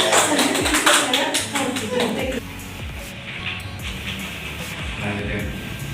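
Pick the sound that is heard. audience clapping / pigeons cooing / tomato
audience clapping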